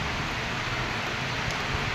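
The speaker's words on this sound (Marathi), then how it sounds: "पाऊस सुरू झाला." Steady rain falls outside, a dense, even hiss of drops with no breaks, heard from indoors at moderate distance.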